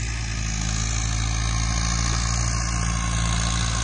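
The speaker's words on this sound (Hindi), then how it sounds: "उधर खेत में बेड बनाने के लिए ट्रैक्टर चल रहा है" A tractor working a farm field to form raised beds, its engine droning steadily and loudly throughout with a low continuous rumble and no breaks.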